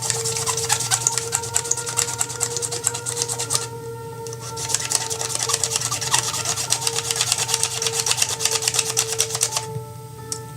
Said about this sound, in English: So here we'll clean off the pins on Destruction Derby as well.